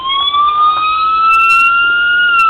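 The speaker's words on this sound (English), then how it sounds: "the same standard 4-tone siren" A custom Old Bridge Township PD Crown Vic diecast model sounds its standard 4-tone police siren: a loud, close electronic wail that slides steadily through its pitch, running continuously with no talk.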